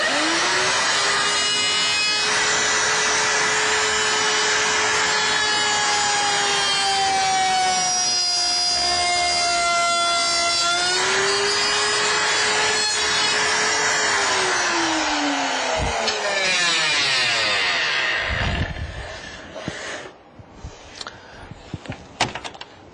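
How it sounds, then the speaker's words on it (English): A Shopsmith saw spins up and runs steadily with a loud tonal whine, changes pitch as it works, then winds down and stops. A few knocks and handling sounds follow once it is off. "I have the saw plugged in and haven't plugged in the router."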